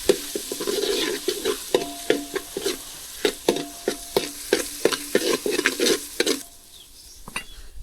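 Ginger-garlic paste cooks in a pan while a spoon stirs it, giving a close sizzle broken by rhythmic scraping and clinking strokes against the metal, then the sizzle fades quieter near the end.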